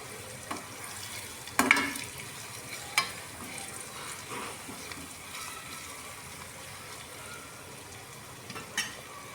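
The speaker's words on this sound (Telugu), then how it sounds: "తర్వాత ఒక స్పూను అల్లం వెల్లి పేస్ట్ వేసుకొని ఒక స్పూను పసుపు వేసుకొని అన్ని కలిసేలాగా కలుపుకోండి" Ginger-garlic paste and turmeric are stirred into onions in a pan over a steady low sizzle, with a few soft spoon scrapes and taps, close and quiet.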